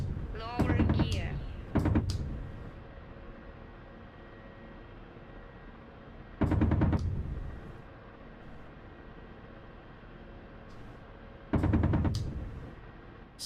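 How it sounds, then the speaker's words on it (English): Bursts of rapid gunfire from soldiers on the ground in the DCS World flight game, three or four separate loud volleys spaced seconds apart over a steady engine drone, with a voice talking in between. "Soldiers are shooting me."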